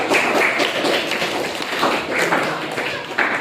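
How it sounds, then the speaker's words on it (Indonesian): A classroom of students claps in unison, a rhythmic series of brisk, fairly loud group claps that runs throughout. "Ayo biar lebih semangat lagi kita tepukan semua dulu"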